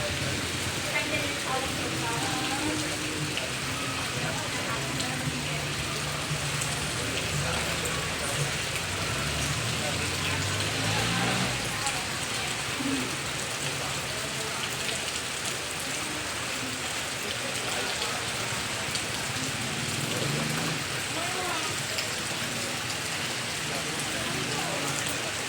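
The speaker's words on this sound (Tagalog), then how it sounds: "Grabe pong ulan guys, ang lakas." Heavy rain pours in a dense, unbroken hiss for the whole stretch, loud and close, with occasional faint voices underneath.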